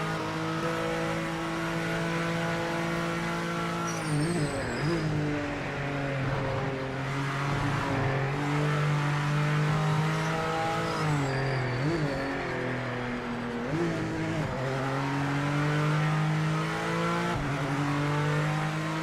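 BMW GT3 race car engines from Project Motor Racing scream in close battle, a steady high-revving drone with brief dips at gear changes and braking, continuous and loud throughout.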